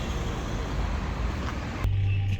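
A 2023 Citroën C5 Aircross on a test drive, with a steady broadband road and engine rumble heard from inside the cabin and a brief tone near the end.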